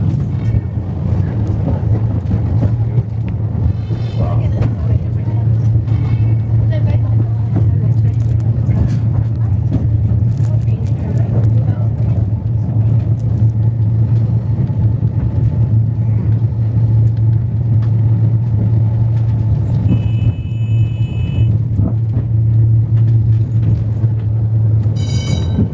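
A Wellington cable car running along its track through woods and residential streets, a loud continuous low rumble with steady mechanical hum, close by, occasional faint higher squeals riding over it.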